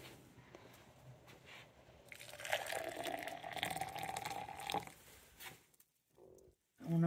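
Hot water is poured into a cup for MRE instant coffee, a faint, steady liquid trickle rising in pitch over several seconds before stopping, followed by a few quiet handling knocks.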